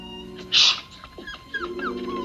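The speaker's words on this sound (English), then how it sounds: "our backdrop is a typical suburban setting, complete with a cute barking dog named Mac." A small dog in a suburban home in a Twilight Zone episode gives a sharp yip followed by a few high whimpering, whining calls, close and fairly loud, with no talking.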